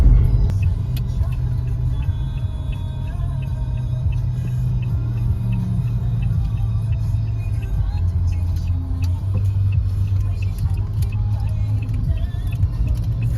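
Heavy city traffic in Bangkok near Central World, heard from inside a car: a continuous low engine rumble and road hum with faint ticking and small clicks, steady throughout with no talking.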